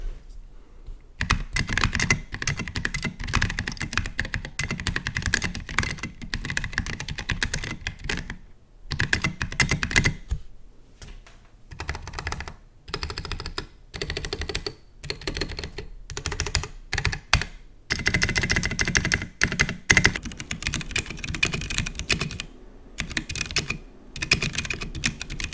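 Typing on a custom GK64 mechanical keyboard fitted with thick sculpted SA keycaps, a deep, rapid clatter of keystrokes in bursts separated by brief pauses, close and loud with no talking.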